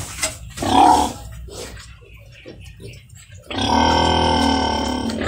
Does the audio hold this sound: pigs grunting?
yes